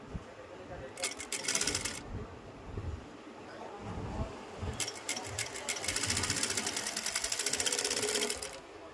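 A sewing machine stitches a blouse seam in two runs of rapid, even needle chatter, a short burst and then a longer steady one, close and clear over low room noise.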